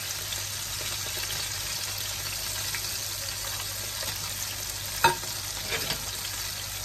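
Shrimp tempura frying in hot oil gives a steady, continuous sizzle with a few brief louder pops near the end, close by and with no talking.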